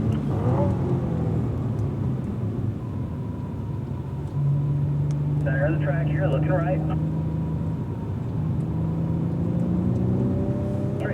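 Cadillac V-Series race car pulling hard on a racetrack, its engine droning steadily as it accelerates and shifts up toward fifth gear, with a continuous low rumble under an instructor talking throughout.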